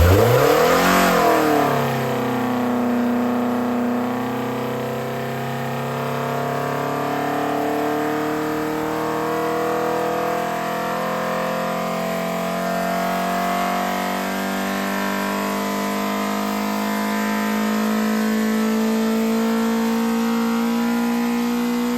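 A Ford Pinto RS2000 race engine on a dyno power run, running on F16 tubes, climbing from a low idle into one long sustained rev that rises steadily and stays loud and close for the whole run, with no voices.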